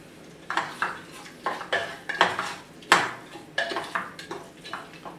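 Masala stirred in oil in a pot for a Kerala-style beef curry: a steady run of separate scraping, clattering strokes of a spoon against metal, close and fairly loud, with no voices.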